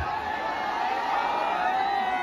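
Crowd noise at a Gautami Patil dance show in Nagardhan, Ramtek, with the audience whooping and cheering in a dense, continuous roar and some voices calling out.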